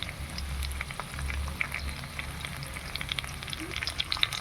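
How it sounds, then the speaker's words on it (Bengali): Capsicum and onion fry in a pan as sauces are stirred in, giving a soft, continuous sizzle with light crackles and faint stirring clicks, fairly quiet overall. "আমি এবার সমস্ত সসগুলো মিশিয়ে নিচ্ছি।"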